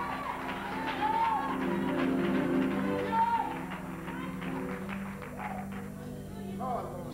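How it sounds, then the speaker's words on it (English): A church campmeeting congregation claps along in a steady rhythmic beat beneath singing and organ-like tones, with voices and occasional whoops mixed in throughout. "Come on, clap your hands for Jesus."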